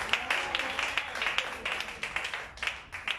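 A church congregation applauds in a lively, rhythmic beat, many hands clapping together in regular pulses that rise and dip, with no one talking over it.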